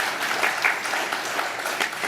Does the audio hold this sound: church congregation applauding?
yes